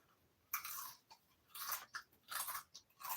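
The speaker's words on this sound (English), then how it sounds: "Y'all hear that crunch? Them fries are real crispy." Crispy fries crunch loudly between bites in several close, separate bursts, with short pauses of chewing between them and no talking over it.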